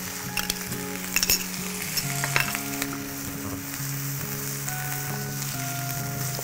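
Tomato puree sizzles and fries in a pan, a loud continuous crackle with occasional stirring scrapes and clatters, no voices.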